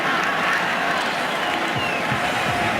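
A stadium crowd at an American football game roars in a steady, loud wash of cheering and scattered clapping, with faint voices mixed in.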